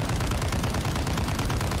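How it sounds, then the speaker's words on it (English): Sustained automatic fire from the ROM LMG, a .338 Norma Magnum light machine gun in Call of Duty: Modern Warfare II, loud and dense with rapid shots blurring into a continuous roar throughout. "running this thing makes you into a walking anti-aircraft gun, blasting 338 Norrie Magnum at a volume that even I'm impressed by"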